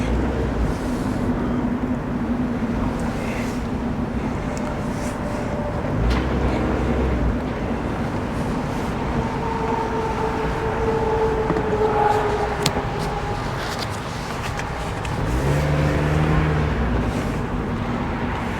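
A Mazda Miata, an inexpensive used example, drives along with a steady low engine drone, road rumble and wind noise throughout, the engine note swelling briefly near the end; no talking.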